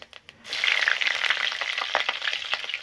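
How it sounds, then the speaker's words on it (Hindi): Cumin seeds and green chili hit hot cooking oil with a burst of loud, steady sizzling and crackling that starts abruptly after a short quiet moment and carries on without talk. "तेल गरम हो गया, अब पहली जीरा डाल लेता हूँ, हरा मिर्च,"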